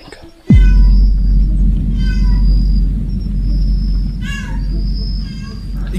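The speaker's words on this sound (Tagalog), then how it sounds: "Ignore nyo yung pusa ko ha, maingay lang talaga." A pet cat meows repeatedly nearby in short rising cries over a steady low rumble, with a person talking between the calls.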